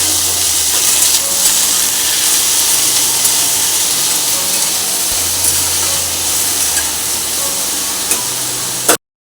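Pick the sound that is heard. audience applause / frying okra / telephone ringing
frying okra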